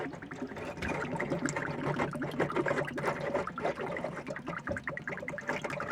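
Water drains from a hot water heater in a continuous, fairly quiet trickling and gurgling flow that bubbles unevenly throughout.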